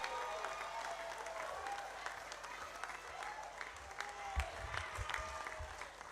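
Crowd applause at a political party event presenting National Assembly candidates, a faint, continuous spread of clapping with a voice speaking over it.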